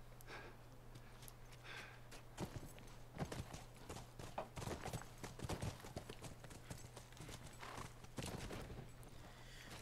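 Horse hooves clip-clop steadily in The Last of Us, with a quick run of hoof beats and a few sharper knocks over constant low game ambience, and no voices.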